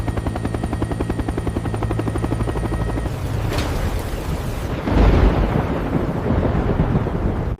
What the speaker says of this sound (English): I am watching a helicopter thread a steel cable across a 720-meter gorge.